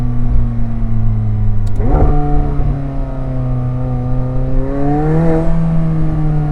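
McLaren 720S engine pulling hard inside the cabin, a steady rising drone broken by a sharp upshift near two seconds, then climbing again with another gear change later, loud and continuous with no talk.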